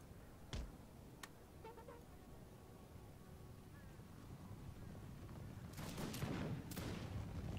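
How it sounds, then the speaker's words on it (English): Musket volley gunfire in a Napoleon Total War battle against Prussian troops: a few sharp cracks early, then a denser burst of overlapping shots over a constant low battlefield rumble. "They are returning fire, though."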